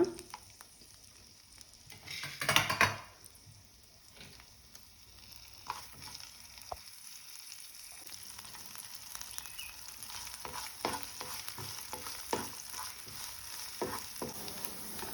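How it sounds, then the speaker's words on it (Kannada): Garlic and chilli sizzle in a spoonful of hot oil, frying steadily with a brief louder burst early on, then a crackling hiss under scattered clinks and stirring. "ಒಂದು ಸ್ಪೂನ್ ಆಯಿಲ್ ಹಾಕಿದ್ದೇನೆ ಹಚ್ಚಿಟ್ಕೊಂಡಂಥ ಬೆಳ್ಳುಳ್ಳಿ ಹಾಕೋಣ ಹಾಗೆ ಚಿಲ್ಲಿ ಹಾಕೋಣ"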